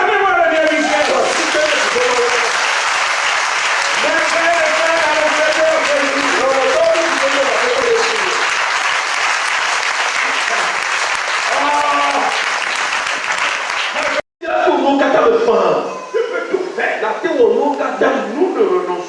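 A church congregation at a Sunday service applauds loudly and continuously, the clapping running on with voices over it and a brief cut near the end before it resumes.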